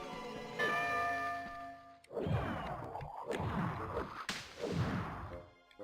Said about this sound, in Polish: Coś tam dzwonek robi.